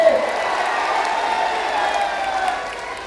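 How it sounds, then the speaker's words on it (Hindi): A large crowd at an outdoor political election rally in Dorandа, Jharkhand, claps and cheers steadily for a candidate, a dense, even wash of applause holding throughout at fairly close range. "जोर से ताली बजाओ बाबूलाल जी के लिए"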